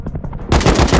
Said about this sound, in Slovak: ja po nej strieľam a ona sa neagruje